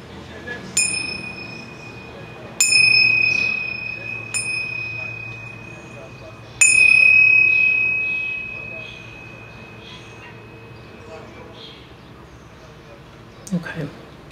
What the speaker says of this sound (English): I'm going to chime my tincture chimes for each one of those children.